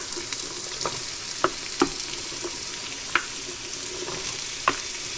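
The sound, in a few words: mirepoix and peppers sautéing with garlic in a pot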